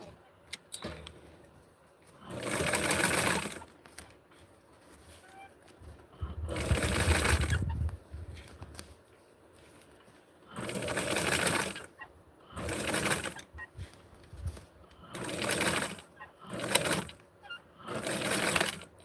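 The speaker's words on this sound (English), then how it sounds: "I'm going to sew this from the top, right in the middle, right where the collar starts" A sewing machine stitches a doll's shirt, working down from the top where the collar starts, in repeated close whirring runs of about a second or two, separated by quieter pauses with faint handling sounds.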